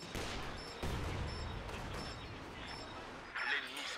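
Sharp gunfire bursts and bombardment in Company of Heroes 2 with a KV-2 tank in play, a few distinct cracks and a rolling volley in a busy battle mix, with faint talk underneath.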